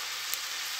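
Ground meat kofta frying in a pan gives off a steady, close, bright sizzle with a brief pop partway through, and no voices.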